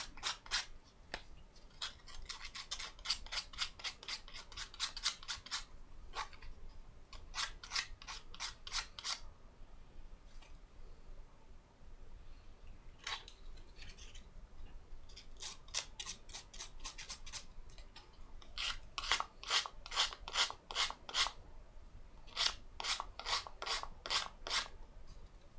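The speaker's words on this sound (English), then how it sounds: "I guess that's why it's asking me to sand these down, wax and sand them" Sanding down small model parts by hand, in bursts of quick rhythmic rasping strokes separated by short pauses, close and fairly quiet with no talking.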